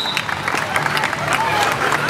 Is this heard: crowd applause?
yes